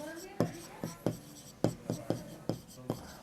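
Chalk or marker strokes on a classroom board during a Class 6 algebra maths lesson: about eight short, scratchy taps and scrapes in an uneven rhythm, close and clear with no voice over them.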